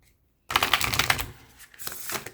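Tarot cards being shuffled by hand in a riffling, papery burst that runs steadily for about two seconds after a brief silence, close and fairly quiet, with no voice over it.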